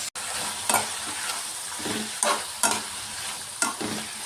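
Tomato onion chutney sautéing in oil in a pan, a steady soft sizzle broken by several periodic scraping stirs of a spoon, close and fairly quiet, no talking.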